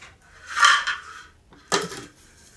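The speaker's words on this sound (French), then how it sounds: "Alors, insérez le couvercle." A lid set onto a kitchen mixer bowl holding crêpe batter ingredients (baghrir), giving two short plastic clatters about a second apart, close and fairly loud with no talking.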